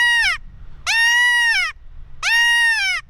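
Three loud, drawn-out distress bleats from a QUOTA predator call mimicking a fawn in pain, each harmonic wail sliding downward and separated by short pauses, close and alone with no talk.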